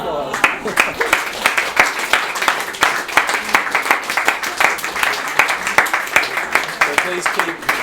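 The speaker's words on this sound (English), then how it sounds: "So it's all going to be a round of applause" Audience applause with crisp, closely spaced individual claps forming a steady rhythmic patter that holds at an even, moderate level for several seconds.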